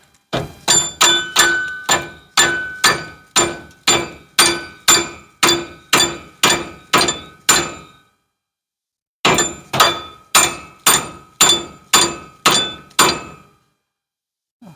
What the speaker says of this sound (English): I'm going to smack it with a mallet.